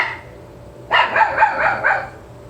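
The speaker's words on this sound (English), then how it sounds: "What are you barking at?" A dog barks several times in quick succession, close and fairly loud, after a moment of quiet room tone.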